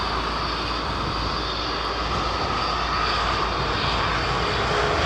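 A Boeing Dreamliner's jet engines at London Heathrow Airport make a loud, steady, broadband roar that holds constant throughout with no break.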